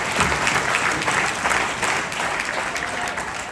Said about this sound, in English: give me a applause for that